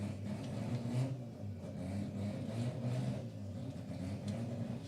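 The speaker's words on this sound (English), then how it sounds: "this little Mazda 1300 goes through, I think, a clutchless gearbox" A Mazda 1300 race car engine with a clutchless gearbox revs and drones steadily, a faint, somewhat distant rumbling that rises and falls slightly in waves.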